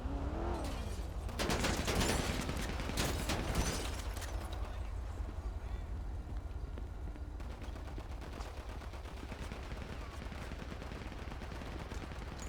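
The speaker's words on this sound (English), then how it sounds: "Shots fired" Gunfire erupts in a drive-by in the video game GTA 5, with dense bursts of rapid shots early on. A lower, steady mechanical rumble carries on afterward.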